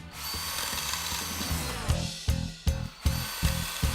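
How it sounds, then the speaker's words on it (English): A power drill bores into a wall to mark hole positions, whirring close and loud with a few short bursts and pauses toward the end, over a low background rhythm. "I'm going to use a drill just to mark where I need to make the big holes"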